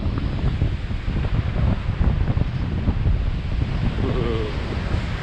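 Steady gusting wind buffets the microphone on a beach in Portugal, a continuous low roar with faint surf blended underneath and no clear speech.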